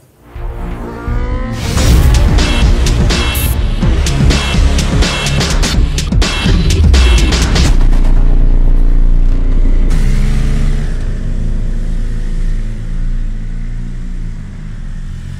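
A 2021 BMW M1000RR superbike runs on a test ground near Munich, its engine loud and close with a rising rev and sharp bursts of acceleration, easing into a steadier, continuous drone.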